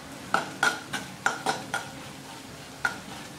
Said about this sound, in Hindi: ये भुनने से हमारी हरी मिर्च पक जाती है।